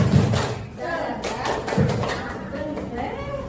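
Rhythmic group clapping in a classroom, a 'tepuk semangat' clap routine led by a teacher, with students' hand claps in short patterned bursts mixed with voices and chanting.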